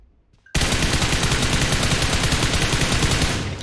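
Sustained automatic gunfire in PUBG Mobile erupts abruptly after a short quiet moment, a loud rapid continuous burst of shots that carries on for about three seconds with no talking.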